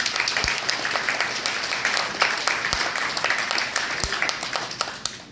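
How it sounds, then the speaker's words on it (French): An audience at the opening of a new Aldi store applauds steadily throughout, a dense, continuous clapping with a voice faintly underneath. "donc on peut les applaudir, merci aussi"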